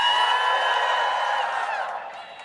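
A large crowd at a Howard University election-night rally in Washington, D.C. cheers and whoops in a dense, sustained roar that slowly fades over a few seconds.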